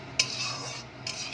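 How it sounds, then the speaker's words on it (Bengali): Whole spices (bay leaf, dried chili, whole garam masala and cumin) tempered in hot oil for a Bengali mushroom dish, with a steady soft sizzle and two sharp clinks of a spoon against the pan. "একটা তেজপাতা দেবো, একটা শুকনো লঙ্কা দেবো, আর গোটা গরম মশলা আর একটু জিরে ফোড়ন দিয়ে দেবো"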